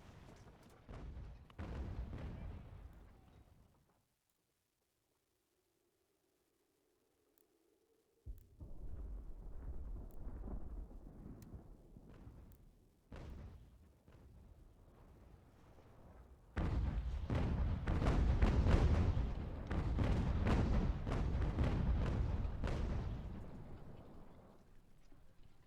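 Cannon artillery fire in the Ultimate General: American Revolution battle game, heavy rumbling booms in long rolling bursts, dropping to near silence for a few seconds, then returning loud and dense.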